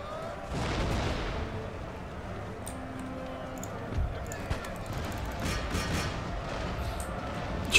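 Artillery guns firing in the Empire Total War strategy game: a dense, rumbling battle bed with scattered distant booms and crackling volleys, a few sharper reports standing out, and someone talking over the din.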